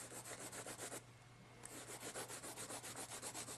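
Oil pastel being rubbed into paper with quick, even back-and-forth strokes, a soft rhythmic scratchy rasp with a brief pause, faint and close.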